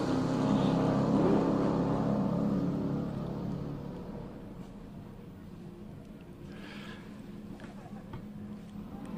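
A race car at a hillclimb roars past, loud and close at first, then recedes into the distance as the engine note fades, leaving a low rumble and wind; a commentator talks over it.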